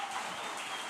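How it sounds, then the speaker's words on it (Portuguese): An audience at a talk on rebuilding cities gives a short burst of applause, a dense, steady wash of clapping heard faintly from a distance. "uma salva de palmas para a Gisele, gente, por favor."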